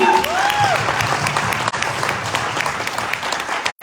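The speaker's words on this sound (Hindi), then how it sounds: "तो कुलदीप सर के लिए एक बार जोरदार तालियां हो जाए" Loud, steady applause from a seminar audience in Delhi for the trainer, a dense clatter of many hands that runs for a few seconds before breaking off abruptly near the end, with a faint voice briefly rising over it early on.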